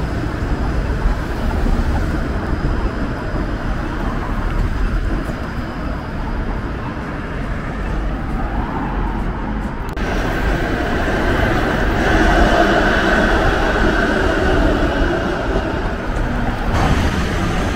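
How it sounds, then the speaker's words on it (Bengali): A Toronto streetcar passes along a city street with a continuous, loud rolling rumble and rail noise over roughly twenty seconds. The tone brightens and swells partway through, with no clear speech. "টরন্টোর ট্রাম সার্ভিস"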